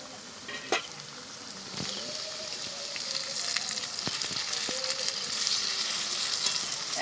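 Restaurant-style chicken chaap frying in a wok (kadai) gives a steady, bubbling sizzle, punctuated by a few sharp utensil clacks and scrapes, close and fairly loud throughout.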